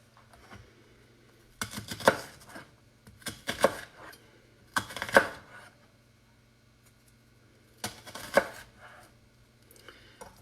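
A knife cutting straight down through an onion on a cutting board for marinara sauce, four clusters of crisp chopping taps at irregular intervals, close and fairly quiet, with near silence between them.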